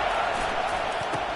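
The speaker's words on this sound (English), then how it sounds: "This crowd going to try to make life miserable for these guys." A stadium crowd in the College Football 25 video game gives off a steady, dense roar that holds at an even loudness throughout, with no distinct cheers or individual shouts standing out.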